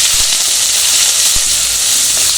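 Onions and green chillies sizzle steadily in hot oil while being sautéed for onion sambar, a continuous loud broadband frying hiss with a couple of faint low knocks, no voices.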